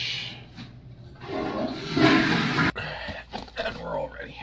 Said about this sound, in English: Flush.